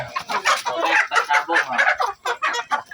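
Native chickens clucking continuously and close by, a busy overlapping flock chatter of short repeated clucks and squawks with no pauses.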